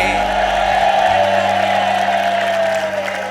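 Studio audience at a TV talent show breaks into sustained applause and cheering, a dense steady roar of clapping lasting the whole stretch with no pauses.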